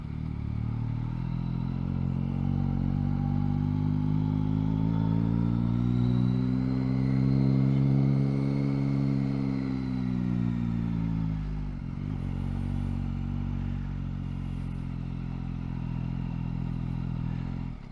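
A motorcycle ride on a road up to the Rocher de Ronesque chapel, with the engine droning steadily close up, its pitch rising and falling as the bike speeds up and eases off, then dipping briefly near the end.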